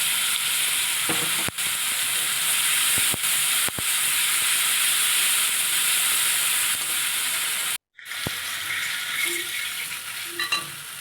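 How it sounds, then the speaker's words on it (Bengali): Spice paste hits hot oil already tempered with cumin and bay leaf for a small-potato dum curry, giving a loud, steady sizzle and hiss that runs unbroken, with a short drop near the end and a few faint clinks. "তারপরে যে মশলাটা পেস্ট করেছি"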